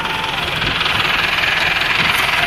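A tractor engine runs loud and steady during a wheat harvest in Dadyal, a close, vibrating, hissy drone throughout with voices mixed in.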